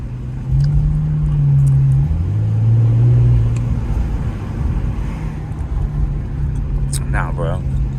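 A muffler-deleted Infiniti Q50 drives through Times Square, its exhaust droning low and loud with a rising rev in the first seconds, amid city street noise.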